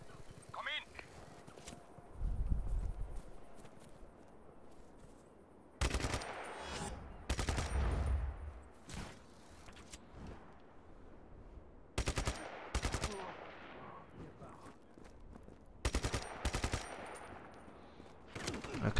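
Bursts of rapid gunfire and explosive blasts in Just Cause 3 come in clusters with quieter gaps between them, loud and close, with some talking underneath.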